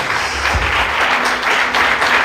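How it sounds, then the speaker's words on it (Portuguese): Church congregation applauding loudly during a worship service, thick sustained clapping from many hands at even volume, with faint voices underneath. "Bem forte as palmas."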